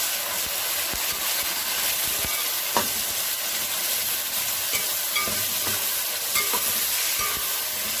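Tomatoes with onion and garlic sizzle and fry steadily in a pan for fish biryani, with scattered scraping stirs and light clicks of the spoon over a constant close hiss.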